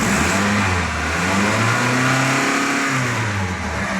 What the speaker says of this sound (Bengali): আপনি ইঞ্জিন সাউন্ডটা যদি একটু শোনাই,